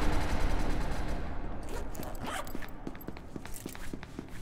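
Rapid bursts of gunfire in an online multiplayer shooting game, a string of sharp repeated shots over a busy game soundscape, fairly loud and close.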